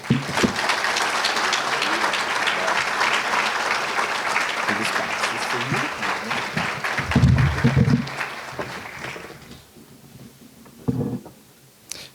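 Sustained applause from an audience congratulating an award recipient at a graduate student scholarship reception, dense steady clapping for about eight seconds that fades out, followed by a brief voice.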